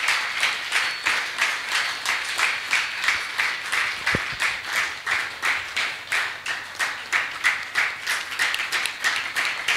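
Audience applause welcoming a speaker to the stage at a spiritual festival, the whole room clapping together in a steady rhythmic beat, loud and continuous.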